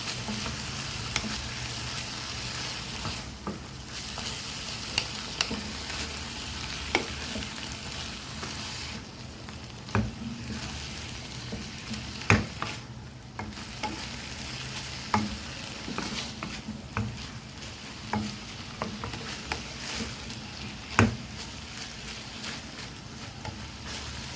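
Shredded chicken breast frying with soy sauce and vinegar in a pan, a steady close sizzle with intermittent sharp scrapes and clicks of stirring throughout.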